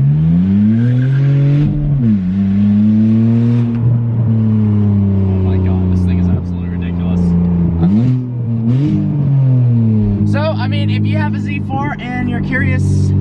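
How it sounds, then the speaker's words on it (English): A straight-piped BMW Z4 exhaust heard while driving: a loud, raspy, droning engine note that rises and falls with repeated revs and shifts. A voice talks over it in the later part. "Curious what it sounds like straight pipe. This is what it sounds like. It's pretty gnarly."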